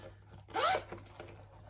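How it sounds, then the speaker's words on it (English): The zipper on a big pocket of a handmade Dayna Pack backpack, with a zipper tab, gives one short, clear zipping rasp close by, with faint handling noise around it and no talk. "We've got our lovely zipper tab there, the fantastic Butler method."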